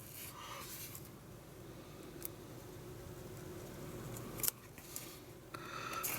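Parts are cut from a Star Trek Defiant model kit with quiet, close snips and faint rustling, a few sharper clicks standing out against a soft, steady background.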